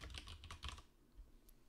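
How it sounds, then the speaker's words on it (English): Quick burst of keystrokes on a computer keyboard while entering comments into a Power Apps form linked to a SharePoint list, clustered clicks for about a second, then quiet. "We're gonna start typing comments."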